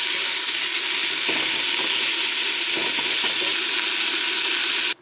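Beef dumped into a pot for stew, frying with carrots and onions in a steady, loud hiss of sizzling that runs throughout, with a few soft stirring knocks, then cuts off abruptly near the end.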